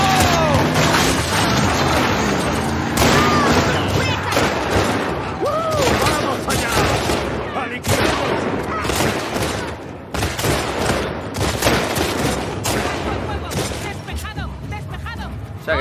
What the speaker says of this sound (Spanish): Oímos el tiroteo.